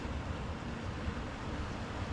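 Sea waves wash against the shore below a coastal wild camping spot in the UK, a steady broadband rush mixed with wind noise, moderately loud and continuous without talk.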